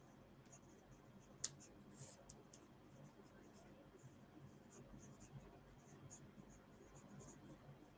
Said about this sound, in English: I'm about to write it down.